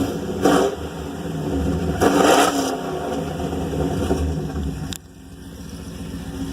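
Pontiac G8 GT with headers and a Solo Performance exhaust: the engine is revved twice in quick blips, giving a deep, loud exhaust roar, then it drops back and settles into a low, rumbling idle.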